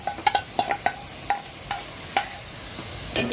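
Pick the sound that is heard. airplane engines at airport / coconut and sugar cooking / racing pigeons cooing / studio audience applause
coconut and sugar cooking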